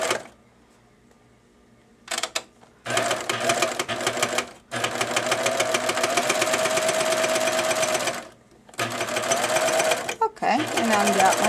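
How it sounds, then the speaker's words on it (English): A serger stitches a test seam on a scrap of fabric with thick thread. It runs in loud, rapid mechanical bursts, with short pauses between runs and one long continuous stretch. "now I'm going to sew onto a scrap piece of fabric just to check the stitches."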